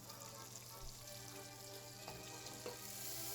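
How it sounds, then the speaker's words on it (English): Butter sizzling steadily in a hot pan, a continuous crackling hiss with small pops, close and fairly loud, no talking. "That little sound you hear from the butter tells you that it's nearly ready to cook"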